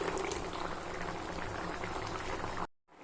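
A vegetable kurma simmers in a pan after a cashew and coconut paste is stirred in, giving a steady, close bubbling boil that runs evenly for a few seconds before cutting off abruptly.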